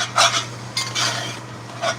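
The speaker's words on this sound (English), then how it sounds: "Give it a stir." A spoon stirs a stir fry in a pan, giving a series of loud, rough scraping strokes against the pan at an uneven rhythm, close up and with no talking.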